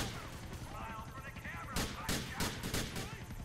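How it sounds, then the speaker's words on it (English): Gunfire in the video game GTA 4 during a street shootout: several sharp shots crack out in the second half, close and loud over game noise. "That guy opened fire on me."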